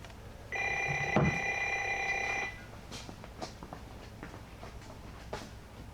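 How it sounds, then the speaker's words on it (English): A telephone rings once with a steady electronic trill lasting about two seconds, loud and close in a workshop, followed by a few faint knocks and shuffling. "And wouldn't you know it, my phone rings."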